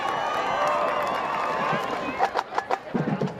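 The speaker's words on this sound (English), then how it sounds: "how about a big round of applause for your Geneseo High School Maplettes?" A crowd at a high school football game applauds the Geneseo High School Maplettes, with broad cheering and crowd noise at first, then scattered distinct claps rising toward the end.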